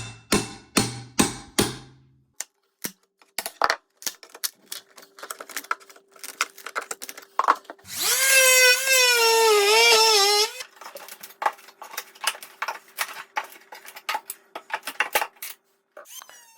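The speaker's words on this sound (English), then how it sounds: "here I'm making a flush cut with the stringer into the stair tread with a fine multi-tool" A high, buzzing whine of an oscillating multi-tool making a flush cut into a wooden stair tread for about two seconds, wavering in pitch, surrounded by sharp taps, clicks and knocks.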